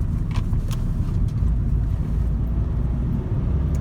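A 2000-2005 seventh-generation Toyota Celica GT, running a bit rough, accelerates with a low, steady engine drone heard from inside the car, mixed with road rumble and wind buffeting.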